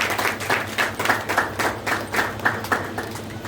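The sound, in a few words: applause at a book launch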